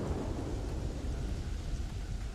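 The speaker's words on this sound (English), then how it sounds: "it is just pouring rain in a thunderstorm" Heavy rain pours steadily over a sandy desert in Starfield while low thunder rumbles continuously underneath, dense and close.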